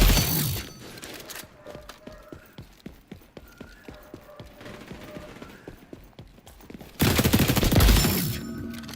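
Rapid MDR rifle fire in the shooter game XDefiant, loud bursts at the start and end framing a stretch of quicker, quieter clicking shots in steady rhythm.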